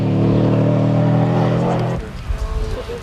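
A Group N Subaru rally car on a stage of the 1996 Ulster Rally, its down-on-power engine droning loud and steady before the note drops away into rougher rumbling and road noise.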